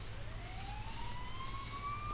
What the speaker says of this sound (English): And you hear sirens nearby.